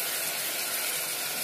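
Whole spices such as cinnamon, cloves and cardamom sautéing in hot oil for carrot biryani, a dense, even sizzle close up, ending in a brief stirring scrape.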